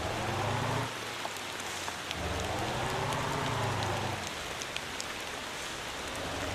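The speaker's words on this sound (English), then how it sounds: "Oh, I forgot. Rainy weather." Steady rain pours in the Motor Town driving game, a dense continuous hiss with faint scattered droplet ticks and no talking.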